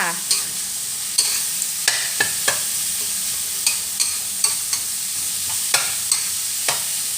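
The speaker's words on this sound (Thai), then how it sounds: "ตามด้วยทั่วฝักยาวจ้าพี่น้อง พัดให้สุกเลยค่ะ" Long beans with minced pork stir-frying in a pan, with a steady sizzle broken by regular scraping strokes of the spatula, close and fairly loud, and no talking.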